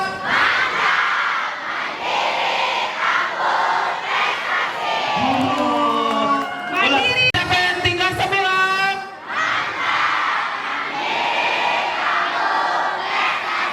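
Middle-school students at SMP 39 Kota Bandung roar and cheer as a crowd, a loud sustained din of many young voices with a brief shouted question and whoops rising over it.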